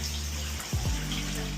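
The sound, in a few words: shower head running water being tested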